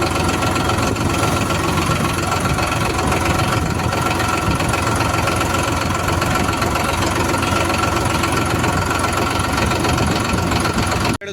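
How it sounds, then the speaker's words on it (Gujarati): A New Holland 3230 TX Plus 42-horsepower tractor engine running steadily nearby, with a continuous rough diesel drone and vibration that holds a constant level throughout, with no talk. "new હોલેન્ડનું 3230 TX plus model 42 horse પાવરનું ટ્રેક્ટર"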